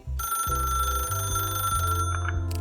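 A telephone rings in the video game The Ratline, a steady electronic ring with a tonal buzz that runs loud and close for about two seconds before cutting off into short chirps, with no talk over it.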